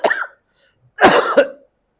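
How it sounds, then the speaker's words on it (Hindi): Two bursts of coughing from a man who is feeling unwell, a short cough followed by a louder, longer harsh cough with throat clearing, close and alone with no talk. "बार बार क्लास में थोड़ा सा मैं खांस रहा हूँ"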